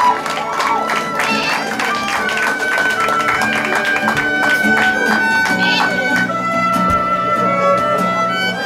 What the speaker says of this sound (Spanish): Un aplauso y unos gritos para la mamá.